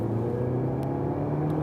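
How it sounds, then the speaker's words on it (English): Interior engine drone of a 210 hp DS3 Performance hot hatch accelerating in second gear from 30 to 70, a steady low rumble and whir that holds throughout without a break. "let's show you some acceleration, for example, from 30 to 70 in the second gear"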